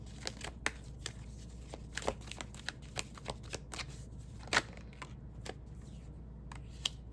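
Tarot cards being shuffled by hand, a quick run of crisp riffling snaps and taps at an uneven rhythm, close and fairly quiet, with no talking.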